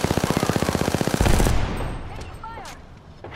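Rapid automatic video game gunfire, with a shotgun among the weapons, rattles in a steady stream of close, loud shots, then gives way to a heavier blast and scattered game effects.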